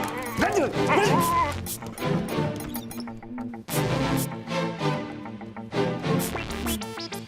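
A dog barks and whimpers in a loud, chaotic scene, yips mixed with shouting voices and some crashing noise throughout.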